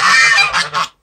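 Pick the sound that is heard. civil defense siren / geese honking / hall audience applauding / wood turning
geese honking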